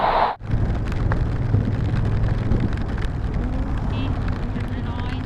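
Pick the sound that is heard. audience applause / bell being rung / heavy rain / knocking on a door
heavy rain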